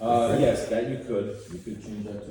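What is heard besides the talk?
No everyday noises stand out.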